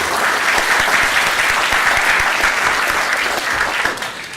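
A panel-discussion audience breaks into loud, sustained applause as panelists are introduced, a thick continuous patter of many hands that eases slightly toward the end.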